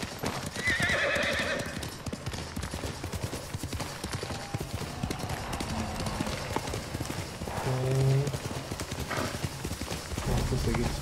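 A horse in the Ghost of Tsushima video game trots with a rhythmic clip-clop of hooves and lets out whinnies, while someone talks over it in Spanish.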